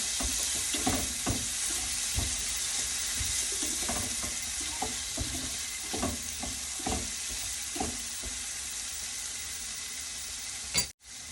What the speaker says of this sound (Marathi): एक टोमॅटो मी बारीक करून घेतलेला आहे हा आपण छानपैकी परतून घेऊया